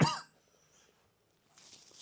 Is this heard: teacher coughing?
yes